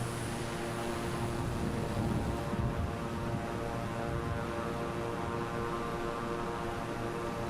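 A propeller airplane in Microsoft Flight Simulator drones steadily and loudly throughout, a continuous engine hum with no pauses, heard over rough mountain terrain in flight.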